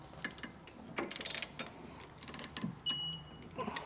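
Close, quiet ratcheting clicks and metallic mechanism sounds come in short bursts as hitch hardware bolts on a 2019 BMW are torqued down with a wrench.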